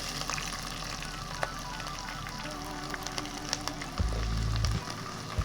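Onions frying in hot oil with whole spices for chicken biryani, a soft steady sizzle with small crackles that thickens into a louder, denser hiss near the end.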